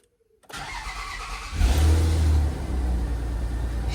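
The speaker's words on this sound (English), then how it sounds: "Right, turn the ignition on." An MG ZR car being repaired after rodents chewed its wiring cranks briefly after a silent start, then its engine catches and runs close up, with a short rev that settles into a steady idle rumble.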